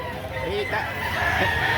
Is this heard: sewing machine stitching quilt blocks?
no